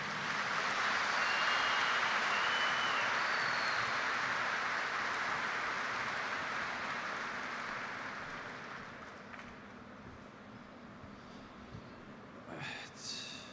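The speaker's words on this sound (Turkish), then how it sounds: "Alkışlarınız kesilmesin" An audience at a municipal ceremony for Istanbul metropolitan staff applauds in a broad hissing wash of claps that swells early, then gradually fades toward the end.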